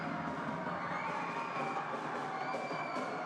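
A home crowd at a futsal final cheers and shouts continuously, a dense, steady roar of many voices with some higher yells rising above it.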